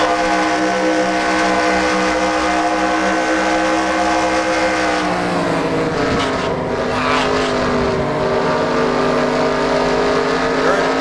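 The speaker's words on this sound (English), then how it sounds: "Let's take a real quick onboard with that Florida Lottery Chevrolet." A Chevrolet stock car's engine roars in an onboard view from a sim racing game at Indianapolis, loud and sustained with layered harmonic whine that dips and climbs again midway as the driver lifts and reapplies throttle.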